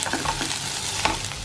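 Food sizzles quietly in a pan while a utensil stirs it, with faint scraping taps against the pan at intervals over a soft, continuous frying hiss.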